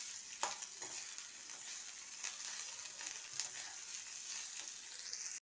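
Ginger fries in oil in a pan for banana flower pulao and is stirred, giving a soft, steady hiss broken by occasional light scraping strokes.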